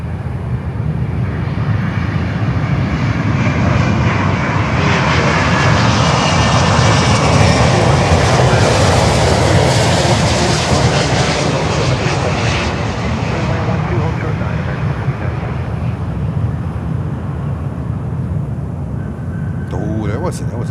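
Jet airliner landing at Miami airport, a loud sustained roar swelling and fading over about twenty seconds as it passes, with people talking over it.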